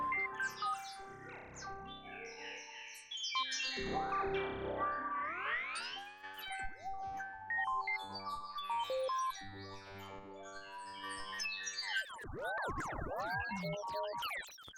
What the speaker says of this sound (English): a great way to create, you know, space, sci-fi, you know, sounds from the 60s and 70s